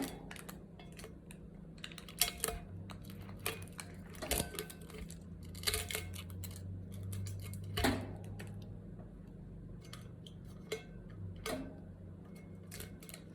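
Tape is popped and peeled off a sublimation tumbler, giving a run of sharp irregular clicks and snaps at close range with short sticky tearing bursts, fairly quiet over a low steady hum.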